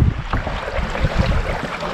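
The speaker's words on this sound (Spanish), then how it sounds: "Está ventoso, ventoso, ventoso. Y la ola, wow, ni decir," Strong gusting wind buffets the microphone beside choppy waves on a lake, a close, rough roar with uneven surges and no speech.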